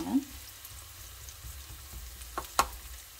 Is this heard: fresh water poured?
no